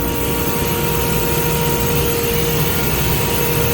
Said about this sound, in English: And this is a CNC machine. It'll cut through acrylic and aluminum.